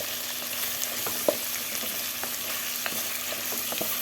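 Leftover chicken fries in a pan while a utensil stirs it, a steady close sizzle broken by repeated scraping clicks and taps against the pan.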